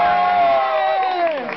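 A crowd cheers and whoops loudly at a night show at Palma Real, with a sustained, rising-and-falling roar of voices that stays strong throughout.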